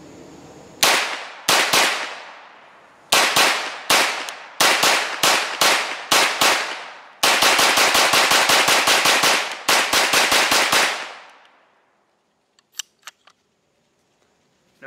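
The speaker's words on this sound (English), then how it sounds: "we're just gonna just shoot them off fast, rapid fire, and see if it jams." A CZ Scorpion EVO-K short-barreled rifle fires loud rapid strings of gunshots in several bursts, short groups first and then a long fast volley, followed by quiet with a few faint clicks.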